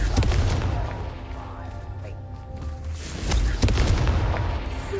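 A Confringo blasting spell explodes in Hogwarts Legacy with deep rumbling booms and sharp crackling impacts, layered battle effects rolling through the whole stretch with a second surge midway.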